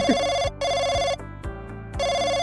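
A phone rings in a video game: a loud electronic ringtone repeating in regular bursts, with short gaps between the rings and no voices.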